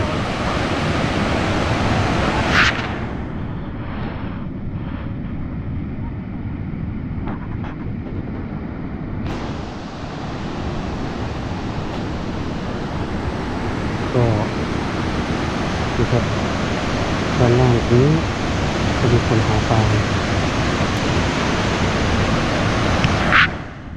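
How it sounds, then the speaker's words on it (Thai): Khone Phapheng waterfall in southern Laos roars as a dense, constant wash of rushing water, steady and broad throughout, with faint voices and small sounds of onlookers mixed in. "ชมวิว น้ำตกคอนพับเพง"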